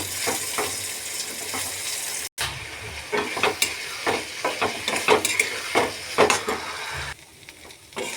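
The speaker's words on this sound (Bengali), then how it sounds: "আমি এটাকে পুরো ভাজা ভাজা করে নেব।" Fish frying in a pan with tomato and chopped coriander: steady loud sizzle broken by repeated scraping stirs and clinks of a utensil, with a brief cutout partway through and quieter sizzling near the end.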